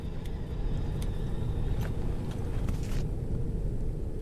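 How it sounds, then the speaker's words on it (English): A steady low engine drone from an airship in the Forever Skies game, a continuous rumble running throughout with a few faint clicks and ticks on top and no talking. "I got one engine going."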